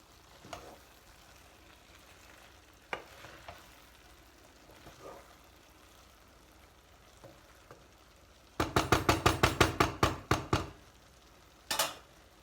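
Boiled chickpeas are added to a pot of chicken pilaf and stirred gently; a quiet simmer is broken by a rapid burst of about ten clattering utensil strikes against the pot, then a final short clatter.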